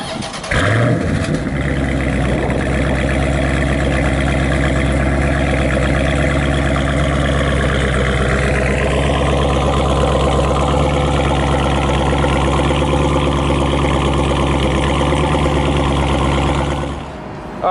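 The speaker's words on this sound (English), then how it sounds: "Enjoy the sweet exhaust note." A Dodge Scat Pack V8 idling with a loud, deep, steady exhaust rumble, close up, holding a constant throaty drone with a slight shift partway through before cutting off at the end.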